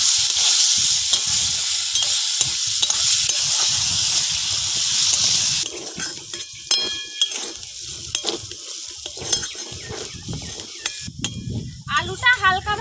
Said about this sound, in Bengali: আলুগুলো এবার হালকা করে ভেজে নেব।